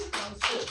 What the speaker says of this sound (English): A very delayed applause, but very delayed.